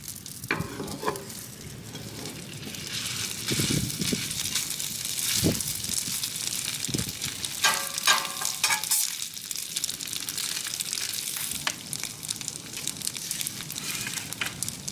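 Halibut fries in butter and oil on a griddle with a steady close sizzle, broken by scraping and spatula clatter throughout.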